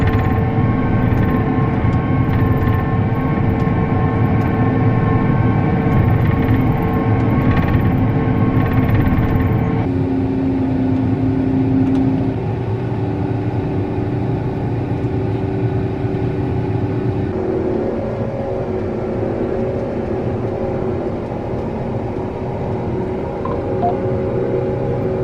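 A combine harvester working the final pass of an oat field, a loud, steady engine drone with whining mechanical harmonics that shift in pitch partway through, running continuously with no voices.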